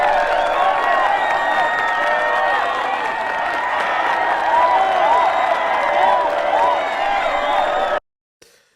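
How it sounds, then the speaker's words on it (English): A crowd applause sound effect plays at full volume, dense clapping mixed with cheers and whistles that runs steadily for about eight seconds and then cuts off abruptly. "Thank you for that amazing applause"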